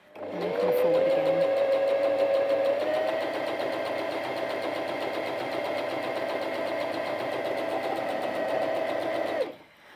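A Bernette 05 Academy sewing machine runs steadily on its slow speed setting, a close, continuous mechanical whirr with rapid needle clatter from start to finish, alone with no talk.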